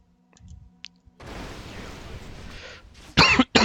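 A person coughs while playing a Warcraft 3 match against the AI: a rough throat-clearing rasp after quiet clicks, then a sharp, loud cough burst near the end.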